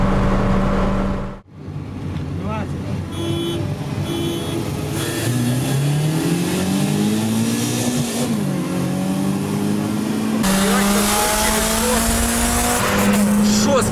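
A VAZ 2114 with a 16-valve engine races a Priora, its engine climbing through rising revs, dropping briefly at a gear change and winding up again, loud and close, with a short cut near the start.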